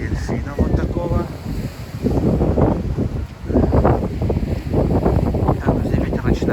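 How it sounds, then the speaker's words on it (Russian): Gusty wind buffets an open microphone in heavy, rumbling bursts during a storm on the Yalta seafront at night, with a brief stretch of voice near the start. "Там где ветер начинается. А у нас микрофон открытый."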